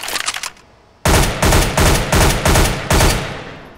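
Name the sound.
gunfire at a target in Counter-Strike: Global Offensive video game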